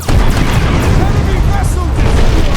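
Torpedoes launched from a starship in a space combat video game, a loud, continuous rumbling boom with whooshing layers that fills the whole moment.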